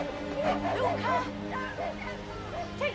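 A dog gives a run of short, pitched barks and whimpering yips close by, repeating in quick bursts over a low steady background.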